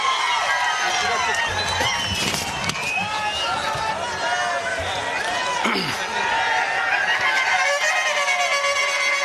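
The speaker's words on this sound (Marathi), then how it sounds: "जोरदार टाळी आमंत्रित करूया" A large political rally crowd in Dharashiv cheers and claps to welcome a leader, a dense and steady roar of voices and applause that never drops, with scattered shouts and talk mixed in.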